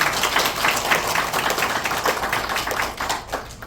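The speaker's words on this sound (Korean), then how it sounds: "박수를 치시려면 좀 힘차게" A congregation applauds at a Korean church memorial service honoring a pastor, producing dense, steady clapping that fills the room for several seconds before thinning slightly near the end.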